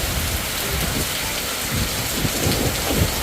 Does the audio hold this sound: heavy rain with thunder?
yes